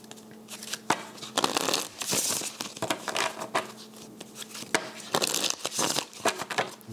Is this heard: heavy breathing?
no